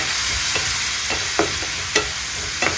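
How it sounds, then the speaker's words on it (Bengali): Spiced masala with a splash of water being stirred in a pan over low to medium heat, with a steady soft sizzle and several brief scraping strokes of the spoon. "এবার এর মধ্যে একটুখানি জল দিয়ে পুরো মশলাটাকে সুন্দর করে কষাবো"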